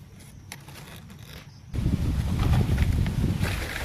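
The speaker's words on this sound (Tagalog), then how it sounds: "Ang lakas ng hangin." Quiet outdoor rustling gives way abruptly to loud, steady wind buffeting the microphone in a heavy, continuous roar.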